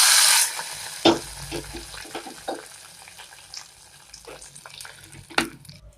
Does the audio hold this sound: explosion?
no